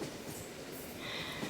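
A passenger train runs steadily along railway tracks, giving a soft, continuous rumble and hiss of wheels on rails heard from inside, even and unbroken, with no talk.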